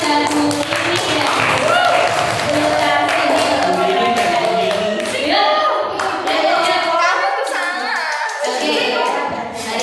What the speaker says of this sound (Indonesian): Maka beri tepuk tangan